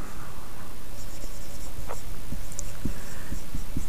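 Chalk or a pen scratches out short, quick strokes on a board during a maths lecture, a close, light tapping-and-scraping over a steady background hum.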